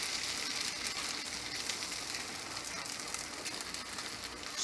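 A buttered tortilla sizzles in a hot pan, giving a steady, close, crackling fry hiss that runs the whole time without talk.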